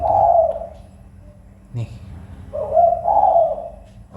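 Spotted doves (tekukur) kept as hobby songbirds coo in a low, mellow phrase at the start and again near the end, with a short clatter between and a voice speaking briefly.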